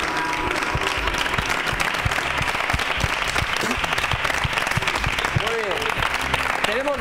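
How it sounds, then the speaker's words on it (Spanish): A TV studio audience on a Spanish magazine show claps hard and continuously throughout, a dense loud wash of applause with no gaps. "Un fuerte aplauso."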